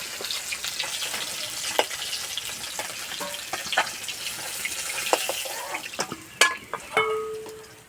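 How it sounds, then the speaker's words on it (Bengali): Fish frying in hot oil in a wok over an outdoor clay stove, a steady close sizzle with scattered crackles and pops plus a few sharp clinks near the end. "সব মাছ ভেজে নিয়েছে"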